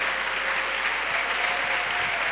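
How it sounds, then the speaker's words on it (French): A church congregation claps together in a dense, steady wave of applause that stays loud and close for the full length, with no speech over it. "Clap offering to Jesus Christ."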